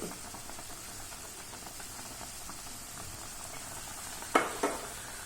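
Two fish fry in a pan of hot oil, cooked for a Thrissur-style fish curry lunch. A faint, even sizzle continues throughout, broken near the end by two sharp clicks from the pan.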